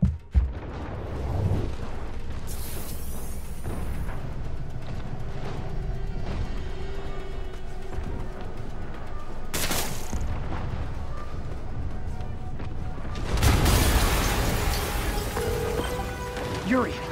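Explosions in the video game Marvel's Spider-Man: two sudden loud blasts, one partway through and a bigger rumbling one near the end, set against steady mechanical ambience and game score, with voices talking at times.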